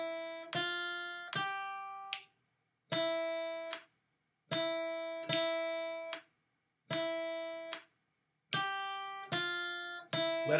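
Guitar rhythm exercise from a beginner music-reading lesson, strummed chords ringing and then decaying in short groups, with clear rests of silence between them, close and clean with no talking.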